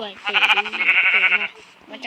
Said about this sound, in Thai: เราเจอแกะสามตัว